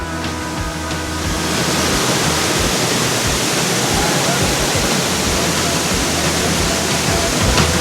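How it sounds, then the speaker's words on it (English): A powerful waterfall in North Carolina pours down just feet away from a rock overhang behind it, making a loud, steady, close roar of crashing water that never lets up. "walk behind thousands of gallons of water, crashing down just feet away"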